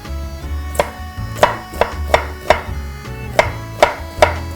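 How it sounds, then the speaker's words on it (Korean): A kitchen knife julienning cucumber into thin strips on a cutting board: about eight sharp, evenly spaced chops ring out close and clear over a low background hum. "오이도 이렇게 이렇게 채 썰어 주시면"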